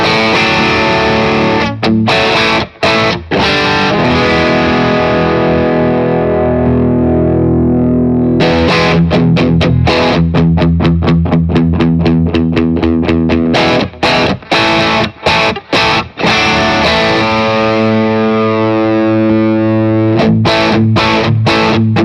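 Electric guitar played through a Boss OD-1 overdrive pedal at its stock setting, giving a loud, saturated distorted tone with sustained chords and choppy rhythmic strums, no talking.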